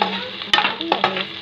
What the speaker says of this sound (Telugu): దాల్చిన చెక్క, లవంగాలు, యాలక్కాయలు, బిర్యానీ ఆకు వేసాను.